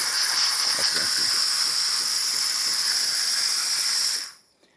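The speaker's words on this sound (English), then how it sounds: "as you can see, steaming perfectly fine, excellent temperature, working great" A Gaggia Anima espresso machine's steam wand steams with a loud, steady, close hiss that runs evenly and then cuts off abruptly near the end.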